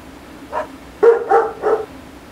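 A dog barks near a family home: one short bark, then a pause, then a quick run of three barks, fairly close with no talk.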